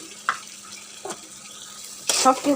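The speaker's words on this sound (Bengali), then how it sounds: "সব মশলাগুলো আমি নেড়ে চেড়ে সুন্দর করে কষিয়ে নেব" A spice paste of green chilies, salt, turmeric and chili powder is stirred and fried in a pan, heard as a few short scraping stirs followed by a louder burst of sizzling near the end; no speech.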